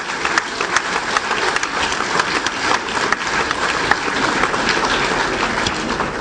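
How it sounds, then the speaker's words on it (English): Audience at a ministerial platform event applauding, a dense, steady patter of many hands clapping throughout, fairly close and even in loudness. "Let us once more put our hands together."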